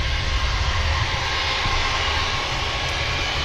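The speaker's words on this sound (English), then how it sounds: "Next aircraft to touch down is the Pegasus" A Pegasus airliner in from Istanbul touches down at Manchester Airport, a loud, steady broadband engine roar that holds at an even level throughout, with no voices.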